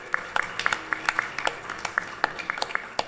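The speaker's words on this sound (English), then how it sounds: "Give them a next round of applause" A small audience at a Mother's Day service at a Krishna Mandir claps for the Bal Bihar class children and their teachers, sparse individual hand claps ringing out irregularly at low volume against a quiet room.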